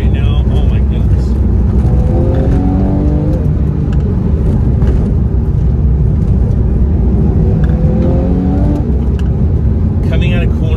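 A Porsche 911 Carrera cornering on the road, its engine droning loud and close with rising and falling revs through the bends, while someone talks over it.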